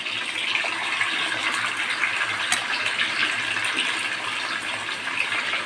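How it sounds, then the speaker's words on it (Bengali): Chicken pieces fry in hot sunflower oil, a steady loud hiss and crackle that runs without a break and sits close, with no talk over it. "গরম হয়ে গেছে তেলটা, সানফ্লাওয়ার তেল দিয়ে আমি চিকেনগুলো দিয়ে দিচ্ছি"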